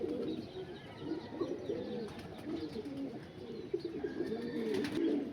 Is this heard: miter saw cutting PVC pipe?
no